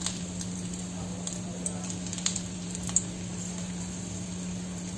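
Steady oil sizzle from red chillies broken into hot oil with cumin and carom seeds, a soft continuous crackle with a few faint pops and a low steady hum, no talking.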